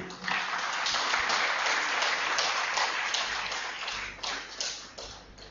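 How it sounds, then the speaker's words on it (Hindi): An audience at a lecture event claps to welcome a speaker, a dense burst of applause that stays strong, then thins and fades toward the end. "आप जोरदार तालियों से उनका स्वागत करें।"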